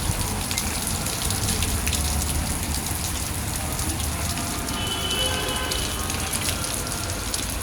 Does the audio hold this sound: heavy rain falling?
yes